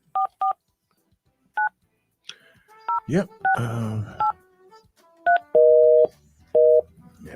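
A telephone is dialed during a call-in attempt, with bursts of paired keypad tones, a loud clatter, then longer ringback tones; a short spoken reply breaks in partway.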